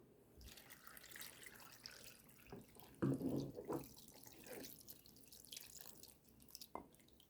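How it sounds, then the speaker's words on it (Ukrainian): Marinade is poured over layered eggplant, a soft liquid trickle and splash with a brief louder gush midway, faint and close with small clinks around it. "Е, маринадиком заливаємо."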